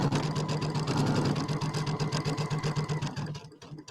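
A sewing machine runs steadily as it stitches a quarter-inch seam across a rectangle bench pillow, its rapid even needle rhythm and motor hum close and continuous before easing off near the end.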